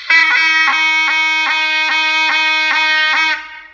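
A zurna playing the la karar note, a loud, bright, reedy tone held steadily with quick repeated articulations in an even rhythm for about three seconds before cutting off.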